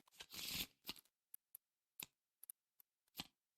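Arkham Horror card game cards are shuffled by hand: one longer riffling burst, then scattered sharp taps and flicks as cards are squared and set down, close and quiet with no talk.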